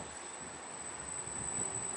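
A steady, low rumble of a small train rolling past on a windy street in Bologna, broad and continuous with no talking, swelling slightly toward the end.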